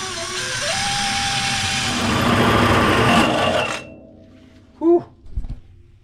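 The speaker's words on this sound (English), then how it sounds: "I drilled this hole right where the brace is" A power drill whines loudly as it bores a hole through a plate, a sustained grinding drone that rises in pitch early on and then cuts off abruptly, followed by a short voiced exclamation.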